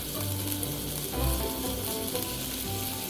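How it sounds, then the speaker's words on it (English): Chopped bacon browning in a pan, par-cooked for green beans, makes a steady close sizzle and crackle with a brief louder bubbling swell partway through and no speech. "And we're just going to brown this bacon."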